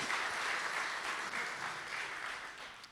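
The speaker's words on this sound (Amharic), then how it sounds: "እሺ ለሊዲያ አጨብጭቡላት" Applause from a church congregation during a sermon, a dense steady patter of many hands clapping together, fairly loud and continuous for about three seconds, easing slightly toward the end.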